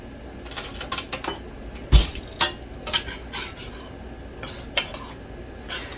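Metal utensils clatter and clink against a metal pot on a stove as water is brought to a boil for an herbal tea with juniper berries, in a series of sharp, irregular knocks and scrapes close by, with no talking.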